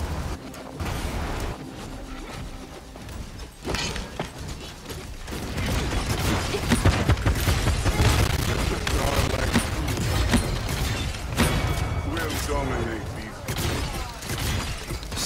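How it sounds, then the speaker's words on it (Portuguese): Gunfire effects from Drogoz's new skin in the Paladins video game, a dense run of rapid shots and impacts over a steady bed of battle noise and music throughout. "Que efeito da hora, mano, nos tiros."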